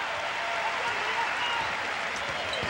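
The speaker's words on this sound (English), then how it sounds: "they get a big round of applause as their names announced on the PA" A basketball arena crowd at a women's college game between UConn and Villanova applauds in a broad, steady roar as players are announced, with a voice talking over it.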